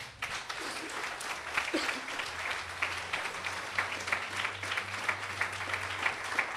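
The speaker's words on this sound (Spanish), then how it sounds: "Dan un aplauso al Señor." A church congregation claps during a Sunday sermon, a steady wash of applause from many hands at middle distance, with a faint low hum and some voices underneath.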